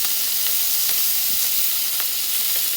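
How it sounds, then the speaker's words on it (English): Bacon frying in a pan for Southern-style fried cabbage, a steady close sizzle with faint pops and crackles running throughout, no voices. "So I'm just going to start frying."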